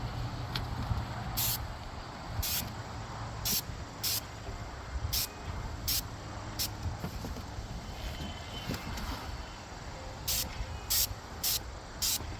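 A Graco paint sprayer with a yellow 515 low-pressure tip coats a metal roof outdoors in repeated short hissing bursts, each under a second long, over a steady background rumble.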